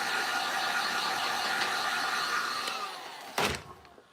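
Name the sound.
dryer blowing to dry a freshly painted piece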